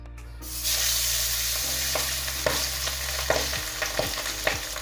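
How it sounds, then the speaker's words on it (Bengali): Steady loud sizzling of pabda fish frying in hot oil, with a few sharp utensil scrapes and clicks near the end; no talking. "পাবদা মাছটাকে আমি এক পিঠ ভালো করে ভাজা করে নেব"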